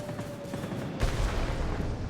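Heavy aircraft cannons on a Me 262 HGII fire in World of Warplanes, a dense, rapid stream of booming shots that thickens into a heavier burst about halfway through, with engine drone underneath.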